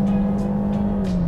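The engine of a new-generation Kia Sportage holds a sustained, loud drone under acceleration, its pitch sagging slightly across the short burst.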